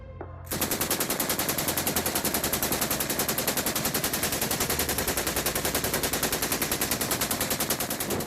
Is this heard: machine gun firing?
yes